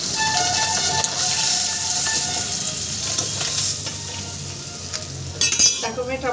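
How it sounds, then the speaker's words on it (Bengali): Rohu fish sizzles steadily in hot oil in a pan, a loud, close, continuous frying hiss, with a few metal utensil clinks and a sharper scrape near the end. "এই মাছটা আমার সুন্দর করে ভাজা হয়ে গেছে"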